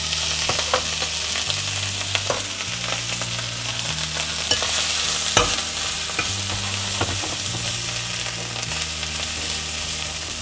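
White beans charring in oil inside a Thermomix, a continuous sizzle and frying crackle with the low hum of the machine stirring, steady throughout with occasional sharper pops.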